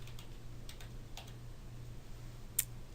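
Quiet, sparse clicking of keys on a computer keyboard, a few soft taps spaced irregularly over a low steady hum, with one slightly sharper click near the end.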